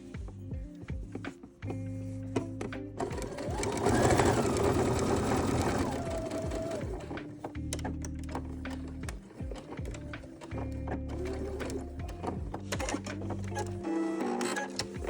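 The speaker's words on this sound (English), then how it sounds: "Make sure you're back stitching at the start and at the end of this." A sewing machine stitching a welt pocket on a jacket, back-stitching at the start and end: a steady mechanical whirring hum in bursts of varying speed, close and prominent, with brief pauses and no talking.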